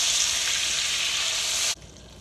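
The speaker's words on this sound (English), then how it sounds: "Now it's best to cook butter with oil" Butter and oil frying together in a pan, a loud even sizzle that holds steady and then cuts off abruptly, leaving faint background.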